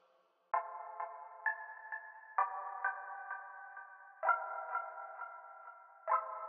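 A 3xOsc synth preset from a bank plays clean, bell-like pinging tones, each struck note sustaining and decaying in a steady melodic sequence, quiet and alone.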